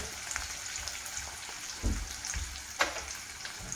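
Sliced onions fry gently over low heat in a pan, giving a soft, steady sizzle with a few small pops and faint stirring knocks, fairly close by and without talk.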